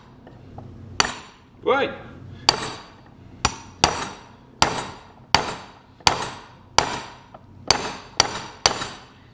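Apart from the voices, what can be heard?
hammer whacking car control arm bushing housing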